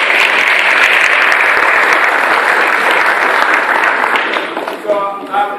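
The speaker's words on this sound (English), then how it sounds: "please give them a huge round of applause for coming" An audience at a South African Air Force university reserve program presentation gives loud, sustained applause that tapers off toward the end as a voice begins to speak.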